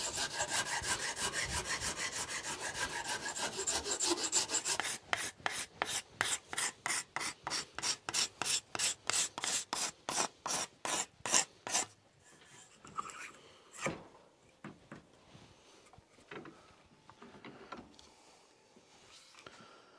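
Rasp working wood off the side of an axe handle to fit the axe head: dense back-and-forth scraping, then a fast run of regular rasping strokes, then slower, scattered strokes. Close and loud, no talking.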